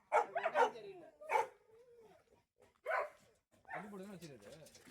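Kennel dogs in Villupuram bark in several sharp, separate yelps and woofs at moderate distance, with pauses between them and a person talking near the end.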